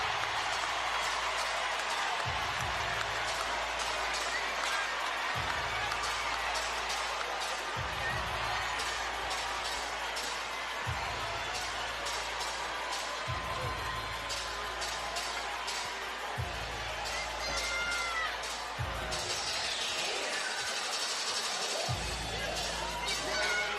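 Arena crowd roars and cheers after a women's professional boxing bout, a dense sustained wall of voices with clapping, while a regular low thumping beat pulses underneath throughout.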